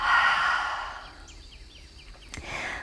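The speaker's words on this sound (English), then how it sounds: "Exhale out the mouth" A long, breathy exhale out through the mouth during a yoga stretch, loud and close at first and then trailing off into quieter breath.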